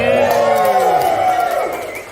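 A festival crowd at an outdoor music event lets out a loud burst of cheers and high whoops that trail off within a couple of seconds.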